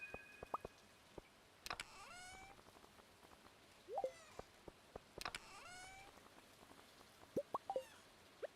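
Rain falling on a farm in the video game Stardew Valley makes a steady soft hiss throughout, overlaid by repeated chirping, meow-like animal calls and scattered clicks.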